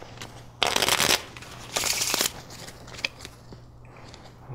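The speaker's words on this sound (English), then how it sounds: "Shuffle the cards." A deck of playing cards gets shuffled at a table, two quick riffling bursts of crisp flapping paper up close, followed by a few soft taps and handling sounds.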